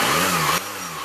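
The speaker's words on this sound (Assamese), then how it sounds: "एक्सेलेटर दियो आप" A Volkswagen Polo diesel engine revs loudly up close, a rough mid-pitched roar that dips and then settles to a lower hum.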